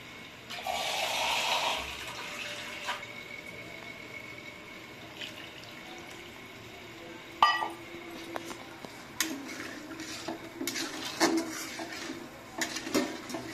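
Water splashes into a cooking pot of potatoes for a Bengali aam shol fish curry in one brief pour near the start, followed by scattered clinks and scrapes of a utensil against the pot.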